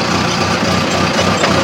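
An Arjun Nova 605 DI tractor engine runs steadily at close range, a loud, dense diesel rumble that stays constant throughout with no talk.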